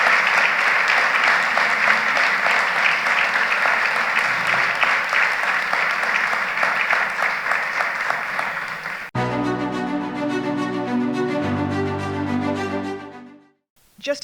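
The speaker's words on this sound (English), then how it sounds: "if we can just thank them by a round of applause" An audience at a river-city mayors' annual meeting in St. Louis gives a sustained round of applause, loud and dense for about nine seconds, then gives way abruptly to music that fades out.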